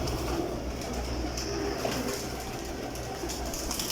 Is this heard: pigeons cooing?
yes